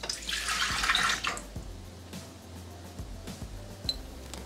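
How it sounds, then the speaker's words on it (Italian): Milk is poured into a Thermomix mixing bowl in a brief, close liquid stream at the start, followed by faint drips and light clinks. "Iniziamo la ricetta mettendo all'interno del boccale il latte."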